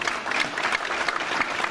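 A concert audience applauds steadily as a child performer is invited on stage, a dense, continuous wash of many hands clapping at fairly loud level with no break.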